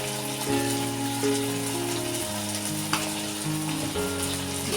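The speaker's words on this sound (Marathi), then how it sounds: "चांगली परतून घेते" Ridge gourd sautéing in a pan with garam masala, turmeric and salt, giving a steady close sizzle and frying crackle with soft stirring scrapes, alone without talk.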